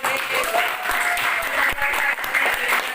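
A classroom of school students clapping steadily for a few seconds, dense and close, with no voices standing out.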